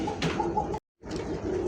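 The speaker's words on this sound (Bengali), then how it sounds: "দেখতে পাচ্ছেন চমৎকার রেড ম্যাকপাই কবুতর, ড্যানিশ ক্যাটাগরির" A red magpie pigeon of the Danish type coos softly at close range, with low repeated coos broken by a brief silent gap partway through.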